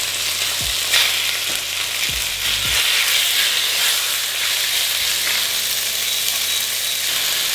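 Loud, steady sizzling and crackling of chicken frying in hot oil in a pan on high heat, with a few low thumps of the pan moving.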